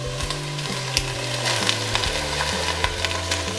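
Broccoli and snow peas dropped into a hot pan for vegetarian mein soup, hissing in a steady close-up sizzle with sharp crackles and pops scattered throughout.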